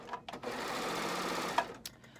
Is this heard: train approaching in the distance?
no